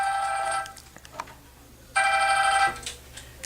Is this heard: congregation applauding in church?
no